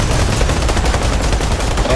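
Dense, loud gunfire from a PlanetSide 2 battle, a continuous barrage of overlapping automatic shots with no pause across the whole stretch.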